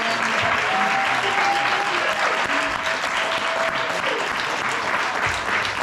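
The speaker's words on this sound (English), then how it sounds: "Please give another round of applause for Dr." Loud, sustained applause from a conference audience honours the keynote speaker, Dr. Lauren Leigh Kelly, at UMass Amherst, a thick wash of clapping, with faint voices and a tonal hum beneath it.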